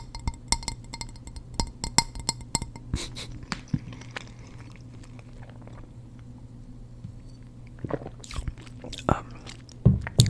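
Close, crunchy bites and chewing of pizza, in bursts of clicks and crackles near the start and again at the end, with quieter mouth sounds between.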